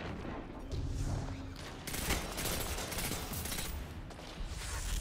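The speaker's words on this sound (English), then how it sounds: "This pulse rifle's fucking incredible." A pulse rifle fires in a first-person shooter match, dense rapid bursts of loud, close gunfire, with short pauses between volleys and game sounds layered underneath.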